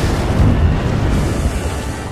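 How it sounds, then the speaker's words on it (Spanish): Steady low rumbling with muffled booms, like distant explosions rolling continuously in Resident Evil Revelations, with no voices. "Han empezado las explosiones."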